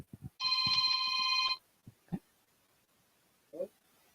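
A mobile phone rings loudly with a steady electronic ringtone for about a second, preceded and followed by short bursts of nearby voices talking.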